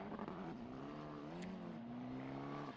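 Race car rolling to the starting grid on a circuit, its engine holding a steady mid-pitched drone that rises slightly, heard at a moderate distance without talk.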